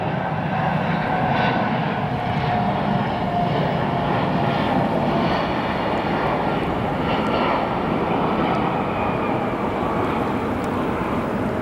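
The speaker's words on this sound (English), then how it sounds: "Time for a heavy arrival. It's aircraft in the Asiana Cargo 747." An Asiana Cargo Boeing 747 arriving at O'Hare Airport at sunset, its jet engines producing a loud, sustained rumbling roar that holds steady throughout with no talk.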